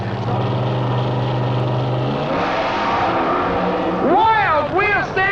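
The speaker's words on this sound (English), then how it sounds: "Wild wheel standing burnouts by both cars." Drag racing cars doing wheel-standing burnouts on the starting line at a Wild Bunch event, heard as a loud, sustained engine roar with rising and falling revs that surge in the last second.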